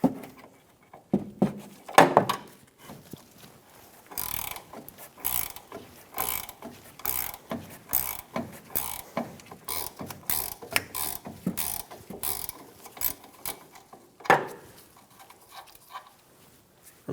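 Ratchet cranking off the nut on a rear shock mount of a Toyota Tacoma, repeated close bursts of clicking strokes with pauses, plus a few louder metallic knocks.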